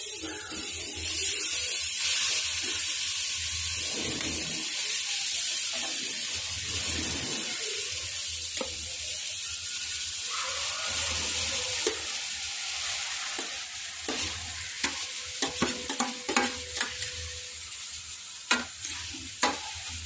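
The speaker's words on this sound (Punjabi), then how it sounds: "ਪੰਦਰਾਂ ਮਿੰਟ ਆਪਾਂ ਗਾਜਰਾਂ ਨੂੰ ਘਿਓ 'ਚ ਭੁੰਨਾਂਗੇ" Carrots fry in hot desi ghee in a wok, sizzling steadily while a spoon stirs them, with sharper scraping clicks and spatters toward the end; nobody speaks.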